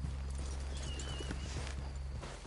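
Horses walking in the video game Red Dead Redemption 2, with soft repeated hoof clip-clops over a low rumbling background throughout the short stretch.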